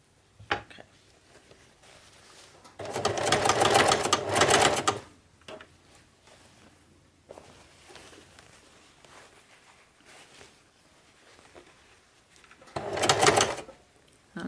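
A sewing machine stitches a handbag in two short close bursts, a longer run of about two seconds and a later brief one, with quiet handling clicks and pauses between them.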